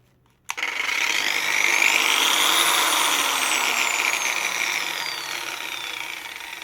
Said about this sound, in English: I will start with this 1450 watts Metabo, which strips the internal protection of the power station even at speed level 1.